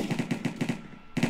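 Rapid M4 rifle fire in the Minecraft Cops and Crims game, five quick snappy shots in an even rhythm, a short gap, then another burst, close and punchy with nothing else heard.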